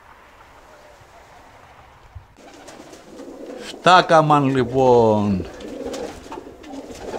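Havades pigeons coo in a short burst of rich, throaty calls near the middle, over background hiss and someone speaking briefly.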